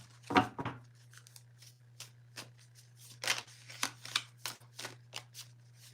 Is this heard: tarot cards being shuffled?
yes